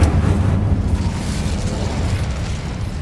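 Incendio fire spell cast in Hogwarts Legacy, a loud whooshing roar of flame bursting forward and rumbling steadily for about three seconds, alone without talk.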